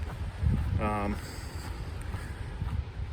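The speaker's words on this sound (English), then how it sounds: "started getting some 50-mile-per-hour gusts blowing through" Strong wind gusts of about 50 mph on a mountain trail near Mt Jefferson roar and buffet the microphone, with a brief voice rising above the rushing noise.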